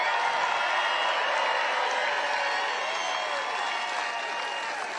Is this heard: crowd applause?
yes